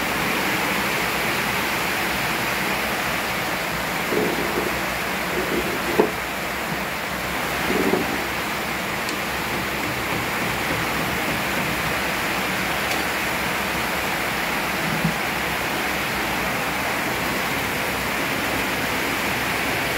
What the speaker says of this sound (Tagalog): Lakas ang ulan mo.